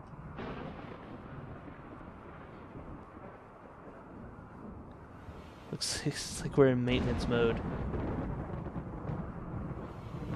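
Thunder from a lightning storm in the video game RimWorld rolls as a low, steady rumble for several seconds, with a voice talking over the end.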